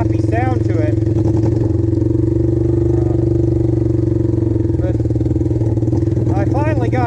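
A 1974 Honda CL200 motorcycle runs close by through a damaged, glued chrome exhaust pipe, giving a steady, choppy, loud engine note while someone talks over it.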